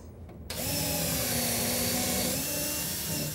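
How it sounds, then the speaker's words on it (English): Power drill pre-drilling screw holes in a wooden face frame cabinet, a steady whirring drone that starts abruptly after a brief pause and runs continuously, close and moderately loud. "we're going to pre-drill for our screws"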